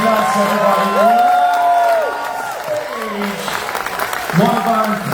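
A large audience at a Royal Caribbean cruise ship show claps and cheers, with a steady wash of applause and scattered whoops. A presenter speaks loudly over the crowd.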